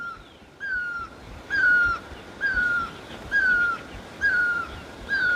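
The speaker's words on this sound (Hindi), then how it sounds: "और अभी पूरे वातावरण में देखिए एक पक्षी की आवाज़ सुनाई दे रही है।" A bird calls again and again across mountain fields in spring, each call a clear whistled note repeated at a steady rhythm roughly every second, moderately near over a soft outdoor background.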